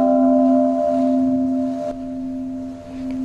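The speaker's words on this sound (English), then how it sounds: "With the sound of a tolling bell," A deep bell tolls at a Confucius school in Beijing with a long humming resonance that slowly decays, a fainter strike sounding partway through.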